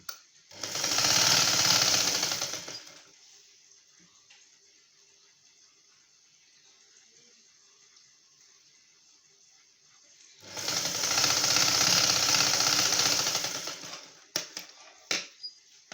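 A sewing machine runs in two loud, steady bursts of a few seconds each while joining the front and back shoulder seams of a prince-cut blouse, with a quiet pause between and a few clicks of handling at the end.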